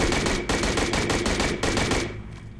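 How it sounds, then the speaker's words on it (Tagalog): Rapid automatic gunfire in the PUBG Mobile video game, with loud, close bursts of repeated shots in quick succession that fade out at the end. "Who's shooting at me?"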